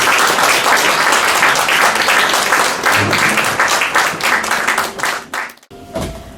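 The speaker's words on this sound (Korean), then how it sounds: "여러분 큰 박수 부탁드립니다." An audience at a book concert claps loudly and steadily in dense applause that tapers off near the end, followed by a brief quiet before a voice begins.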